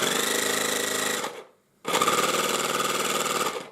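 An electric air compressor fed through a thin supply wire runs with a steady, loud, rattling mechanical chug. It cuts out for a brief gap, then starts again at the same pace.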